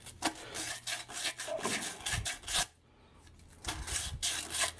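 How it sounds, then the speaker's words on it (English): Hand sanding of old sludgy sealant off a Mopar 340 engine block, a series of quiet rasping scrubbing strokes with a short pause in the middle, close and without talk. "It's just what I'm sanding off."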